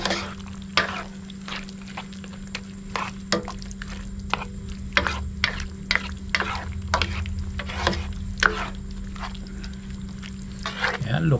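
Young bamboo shoots, spinach and coconut milk mixed in a pan: a spoon knocks and scrapes in an irregular rhythm over a steady low simmering hum.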